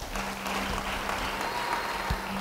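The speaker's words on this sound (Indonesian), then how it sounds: "Beri tepuk tangan bagi dia." A church congregation at a sermon on God's grace applauds with a steady, moderately loud wash of clapping, with a low hum running underneath.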